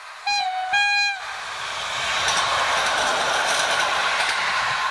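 An EN57 'Tygrys' electric multiple unit heading to Krzeszowic sounds two short horn blasts, then rumbles loudly past at close range with a steady, rising roar of wheels and motors.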